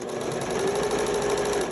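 A sewing machine runs steadily at close range, stitching fabric for a homemade six-panel welding cap, its fast, even mechanical whir continuous and uninterrupted by speech.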